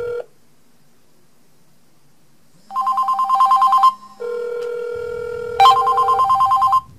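A cell phone rings during a call test before one handset is wrapped in aluminum foil: loud electronic ringtone bursts with repeated pulsing tones and a pause between two rounds, no voices.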